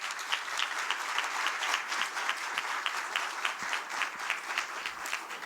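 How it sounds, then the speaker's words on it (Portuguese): Sustained audience applause at a human rights award ceremony in Brazil, dense steady clapping from a sizable crowd continuing evenly throughout with no speech over it. "Eu pediria, inclusive, uma salva de palmas"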